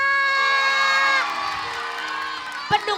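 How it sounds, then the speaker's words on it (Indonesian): Children in a studio audience of an Indonesian TV show shout and cheer together in a loud, sustained burst that tapers off, with a sharp clap or knock near the end. "Mana teriakannya buat Ocha?"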